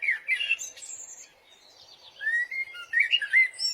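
A mimicked call of a mother sparrow at a nest in a cartoon: a series of high chirps and whistled tweets in short bursts, clear and close, with a brief quiet gap midway.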